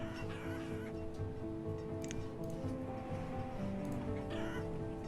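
Chickens in the video game Banished, clucking in short bursts over a steady ambient bed of game background sound.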